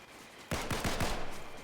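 Fortnite weapon fire from the Blaze bundle gun: four quick, evenly spaced shots in a short burst after a brief quiet lead-in, loud and close.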